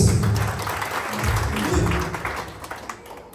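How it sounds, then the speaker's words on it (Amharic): A church congregation at a prophetic service in Johannesburg claps together in a loud, dense burst that gradually thins into scattered claps, with voices mixed in. "አጨብጭቡ ለጌታ ክብር"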